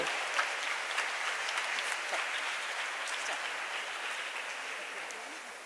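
Concert audience at a sitar recital applauds in gratitude to the SPIC MACAY organisers, a broad even wash of many hands clapping at moderate distance that holds steady and tapers slightly at the end.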